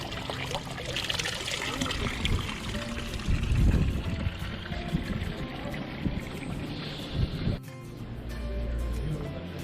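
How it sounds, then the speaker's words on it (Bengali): Water pours and trickles from a public fountain in a small park beside Bern Cathedral, Switzerland, a close splashing stream over outdoor ambience. Faint voices drift in the background, and it cuts abruptly near the end. "আমি এখান থেকে জল ভরবো এখন"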